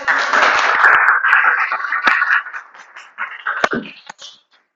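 Audience applause at the close of a group presentation in a university teacher-training class, a broad, steady wash of clapping that fades out over several seconds, with a few voices mixed in.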